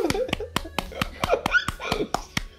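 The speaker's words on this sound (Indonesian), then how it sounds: "Tepuk tangan semuanya, yeay." A few people clap in a podcast studio, about ten distinct, close, sharp claps in a loose uneven rhythm, with voices chattering and cheering between them.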